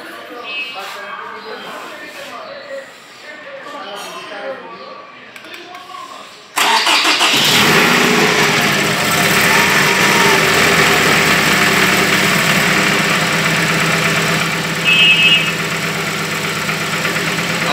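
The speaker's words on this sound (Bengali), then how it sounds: "আমি আগে ইঞ্জিনটা স্টার্ট দিই।" A car engine cranks and catches, then settles into a loud, steady idle with a rough, knocking edge, following a stretch of quieter talk before the start.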